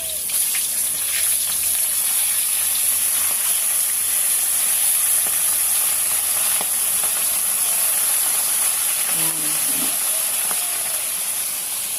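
Bisugo fish frying in a pan sends up a steady, close, hissing sizzle with scattered faint pops and a brief clink partway through.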